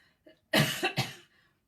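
A person gives several hard coughs in a row, the first a short burst and then two loud, harsh ones close together, with faint breathing before and after.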